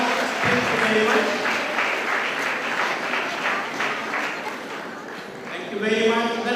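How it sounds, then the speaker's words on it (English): Guests at a graduation ceremony clap in a rolling wave of applause while a voice speaks over it, the clapping rising and dipping in loudness. "let us clap for this"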